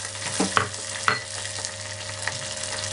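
Drumstick (moringa) leaves fry in melted butter while being stirred, a steady close sizzle broken by a few scraping spoon strokes against the pan, with no voices.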